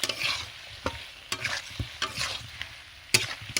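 Masala being stirred with chicken liver and gizzard in a pan, irregular scraping strokes and clacks of the spoon over a moderate sizzle, close and fairly quiet, no speech.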